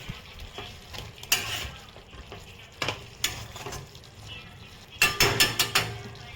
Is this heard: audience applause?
no